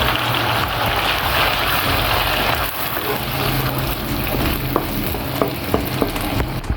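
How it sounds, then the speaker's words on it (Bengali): One cup of onion paste frying in hot oil in a pan, a loud continuous sizzle with occasional stirring clicks and scrapes toward the end. "তেলটা যেহেতু আমার গরম তারপর এখানে দিয়ে দিচ্ছি আমি এক কাপ পেঁয়াজ বাটা"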